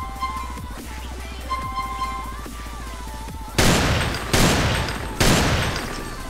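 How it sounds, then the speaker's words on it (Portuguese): Three loud, separate Desert Eagle pistol shots from a modded Call of Duty Black Ops weapon pack, each a sharp blast with a short decay, following a quieter stretch of tonal ambient game sound. "Uma nova Desert Eagle aqui, ó."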